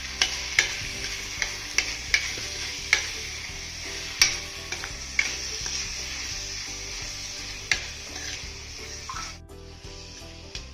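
Carrots stir-fried in hot oil in a pan while fried rice is being made, giving a steady close sizzle under repeated sharp scrapes and knocks of a spatula against the pan. The clatter comes at irregular moments, and near the end the sizzle drops away.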